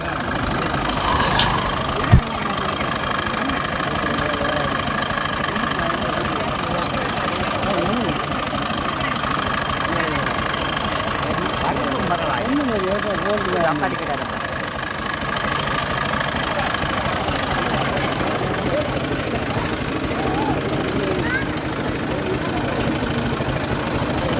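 A tractor engine idles steadily throughout, rumbling low and evenly with a brief knock near the start; faint voices may sit beneath the drone.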